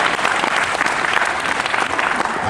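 An audience at a Q&A session on a Mediterranean cruise claps steadily for the full stretch, a dense, loud wash of many hands with no break or spoken words.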